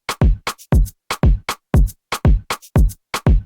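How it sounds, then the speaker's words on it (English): Simple electronic drum pattern of punchy booming kicks alternating with short crisp hi-hat ticks, looping in a tight, steady, danceable rhythm, loud and dry with nothing else playing. "I really just put a really easy kick hi-hat pattern."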